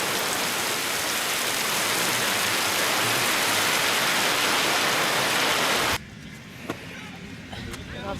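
Heavy rain falls steadily on a film set, a loud, dense hiss that stops abruptly partway through, leaving quiet room sound with a few faint knocks.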